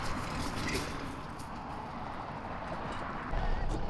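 Horses at a riding tournament in Kyrgyzstan or Kazakhstan make faint hoof clip-clops under a steady wash of outdoor noise and wind, heard from a distance.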